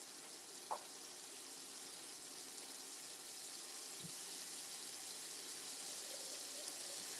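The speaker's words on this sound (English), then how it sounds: "Let's do a splash of water." A splash of water poured into a pan with catfish fillets, a steady faint hiss and trickle throughout with one small clink near the start, no voices.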